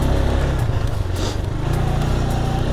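A Spark SP200R-28 enduro motorcycle rides over rough, dug-up ground, its engine droning loud and steady throughout with constant low-end roar and slight variations, close to the rider.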